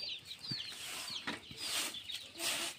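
Chickens cluck and chatter nearby in an enclosed shed, with soft scattered calls and a few brief knocks in the background.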